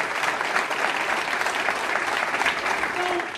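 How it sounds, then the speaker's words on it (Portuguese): A congregation in church gives a strong, dense round of applause, loud and continuous throughout with no letup. "Dê mais forte esse aplauso ao Rei."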